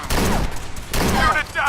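Rapid bursts of gunfire in the Fallout 4 video game fill the scene, loud and dense, mixed with shouting voices and battle chatter.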